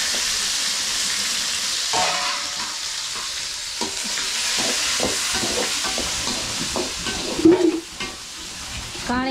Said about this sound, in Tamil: சிக்கன் வறுவல் வந்து செய்வேன்.